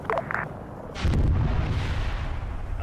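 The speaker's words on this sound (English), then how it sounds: "That's a delayed airstrike." Loud, deep rumbling explosions from a delayed airstrike in a Soviet convoy military video game set in Afghanistan, with a few faint sharp pops at the start before a sustained heavy blast roar.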